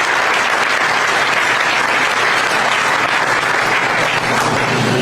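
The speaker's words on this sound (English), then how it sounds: "Let's get one last round of applause for that entire group of fine folks who made this possible." Loud, dense audience applause at the groundbreaking ceremony for a VinFast factory, a continuous wash of many hands clapping at steady volume throughout.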